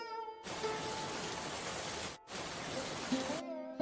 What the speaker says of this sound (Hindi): बारिश बंद नहीं होगी।